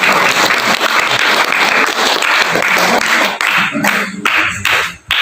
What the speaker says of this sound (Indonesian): tepuk tangan tepuk tangan pada kita